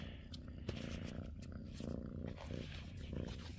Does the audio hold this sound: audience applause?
no